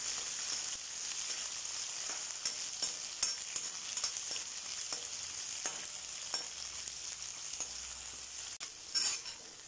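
Sliced onion sautéing in a pan for mint chutney, a steady broadband sizzle with scattered soft scrapes of stirring throughout, fairly quiet and continuous with a brief louder clatter near the end.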